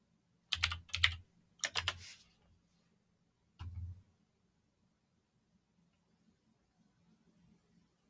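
Typing commands on a computer keyboard in a quiet room: a few quick bursts of close key clicks, then a single short burst, followed by near silence.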